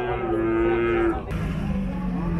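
A cow at a livestock market in Zharkent gives two loud, close moos, one long low call followed after a brief pause by a second, deeper one.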